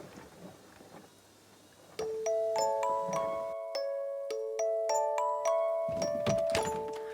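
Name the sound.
doorbell ringing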